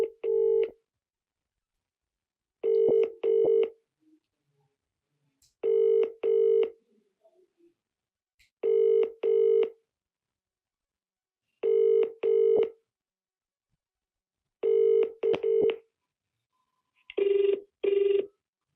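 Telephone call tones: seven evenly spaced pairs of beeps repeating roughly every three seconds, clean and isolated against silence.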